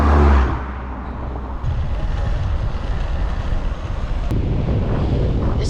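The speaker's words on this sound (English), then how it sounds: "It's a very cold wind, it's getting up." Strong cold wind roaring across the microphone while riding a bicycle outdoors, a loud continuous buffeting rumble with no talking.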